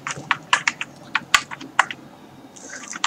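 CSS code typed on a computer keyboard, a quick, uneven run of crisp close key clicks with short pauses between bursts.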